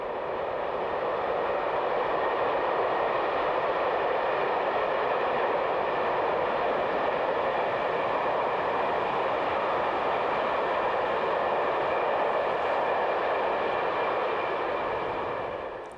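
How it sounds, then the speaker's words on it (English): A Class 1014 electric locomotive in Austria hauling a block petroleum freight train, a continuous loud rumbling roar with steady rail noise and tonal hum throughout, close by, no talking. "Block formations are common too, such as this trainload of petroleum hauled by one of the latest Class 1014 electrics."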